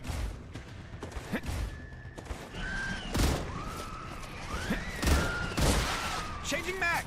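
Automatic gunfire in the video game StarRupture, bursts of shots and booming impacts mixed with whistling, wavering game tones, with a voice speaking over parts of it.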